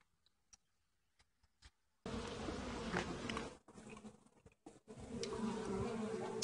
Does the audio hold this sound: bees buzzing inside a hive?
yes